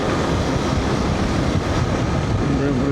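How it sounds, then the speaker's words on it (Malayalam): A train runs on a railway track parallel to a road in Arunachal, a dense continuous rumble with faint clattering, heard amid road noise and a voice speaking. "റെയിൽവേ ട്രാക്കിൻ്റെ ട്രെയിൻ കാണാം"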